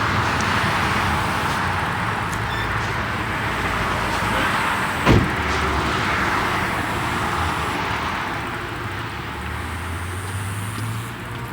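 A work van with a 6.0 engine runs after being fired up, giving a steady broadband engine rumble throughout, with one short sharp knock partway through, fairly loud and with no talk.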